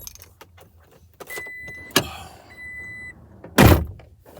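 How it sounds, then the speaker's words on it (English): A power window motor whirs for a couple of seconds amid car interior noises, with a short beep and a couple of loud thuds. "so I could probably just let the windows down"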